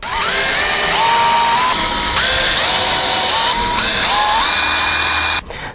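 A high-pitched power drill whines continuously as a spot weld cutter bites into sheet metal, its pitch rising and dipping in repeated surges before stopping abruptly.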